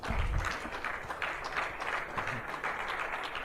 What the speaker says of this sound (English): I think Winston deserves another round of applause.